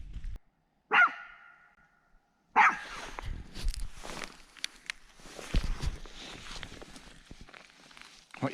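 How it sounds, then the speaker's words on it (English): A Deerhead Chihuahua gives two sharp, close barks separated by a short silence, followed by rustling footsteps and movement at a wild camp. "What you barking at?"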